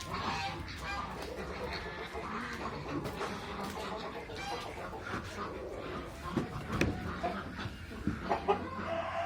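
Tokat chickens cluck and squawk close by in a busy, muddy, rain-soaked barnyard, with a few louder calls near the end.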